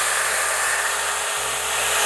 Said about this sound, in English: Let's see if we actually got this metal soft and go ahead and bandsaw this.